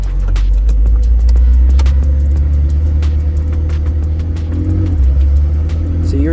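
A McLaren 720S sports car rumbles steadily while driving, a loud, continuous low engine drone heard from inside the cabin, with brief shifts in tone near the end.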